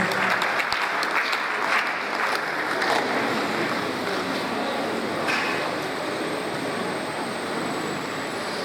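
Sustained audience applause at a public lecture honoring teachers and lecturers, a dense, steady wash of many hands clapping that stays loud throughout and fades slightly toward the end.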